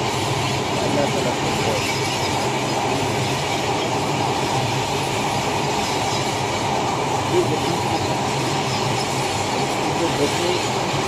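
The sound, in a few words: train running on railway tracks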